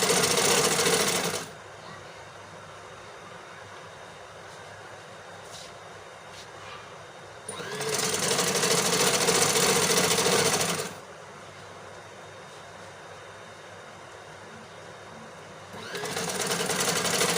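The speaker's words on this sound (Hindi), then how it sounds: "यहाँ पर हम इधर से सिलाई लगाएंगे।" A sewing machine runs in three steady bursts while stitching a side pocket onto a women's kurti, loud and close, with quieter pauses between runs.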